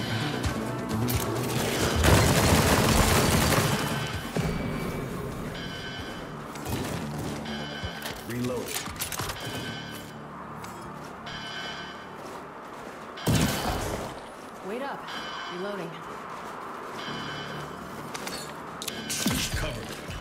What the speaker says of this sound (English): I need to shoot the tendrils